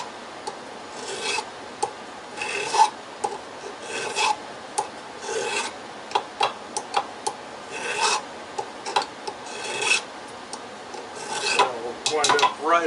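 A metal ring being hand-filed down to about 13 millimetres, a light pass taken all the way around: steady rasping strokes in an uneven rhythm, close and clear, with no talking.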